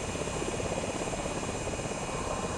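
Steady, dense rotor and engine drone of the Miltech Osprey tiltrotor aircraft in Microsoft Flight Simulator on Xbox, a continuous loud roar with no speech over it.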